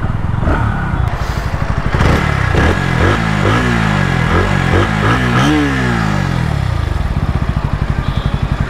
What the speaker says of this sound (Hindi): कर दी मैंने बाइक का इंजन ऑन।